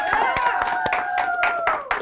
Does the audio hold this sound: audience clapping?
yes